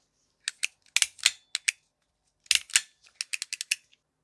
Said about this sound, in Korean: 생활차 쉬프터도 소리가 좀 달라졌죠